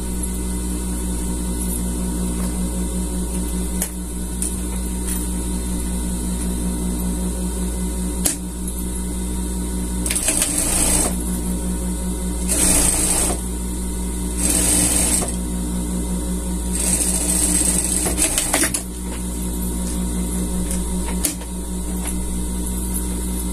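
A sewing machine stitches a hem on a scout costume, its steady mechanical hum running continuously, with several louder bursts of faster stitching in the middle.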